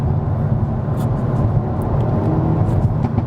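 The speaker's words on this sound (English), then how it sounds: "Them crackles are quite unique." A Hyundai i30 engine rumbles steadily and loudly up close, with faint sharp crackling pops from the exhaust scattered through the drone.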